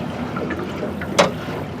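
Steady low engine rumble of a tour boat leaving a dock, with wind and water noise, a brief hiss of spray or wind gust partway through.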